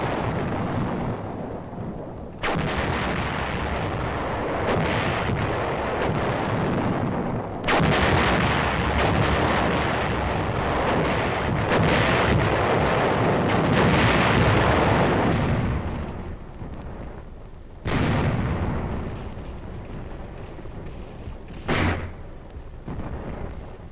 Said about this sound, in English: 3rd Division artillery moved in to plug the gaps with firepower.